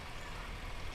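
A tractor rolls along in a small-town Rails to Trails parade in Watertown, giving off a faint, low engine rumble that stays constant through the short moment.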